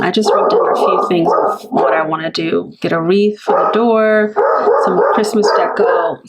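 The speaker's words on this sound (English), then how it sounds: "Sorry, that's my dog." A dog barks, yips and howls loudly through the whole stretch, reacting to a delivery arriving at a home during the Christmas season, with someone speaking briefly over the noise.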